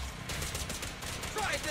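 Rapid gunfire bursts from Zenless Zone Zero combat, a dense run of sharp close shots firing in quick succession over less than two seconds, with game effects layered in.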